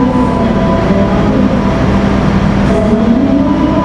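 Loud, continuous rumble of the Jayabaya economy passenger train rolling along the rails in Indonesia, heard from inside, with a steady drone and faint squeals.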